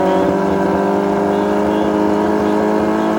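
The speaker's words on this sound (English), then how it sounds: "Kawasaki, Suzuki, bar to bar, fork to fork, wheel to wheel, top end of the racetrack." Kawasaki and Suzuki Hayabusa drag racing motorcycles with nitrous and turbo screaming side by side at the top end of the track, a loud, steady, high-pitched engine roar throughout.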